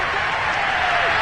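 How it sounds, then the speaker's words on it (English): Stadium crowd applauding at a Jets vs Dolphins NFL game, a brief steady wash of clapping and cheering heard from a distance beneath a commentator's voice. "We're going to give out a little applause on that play"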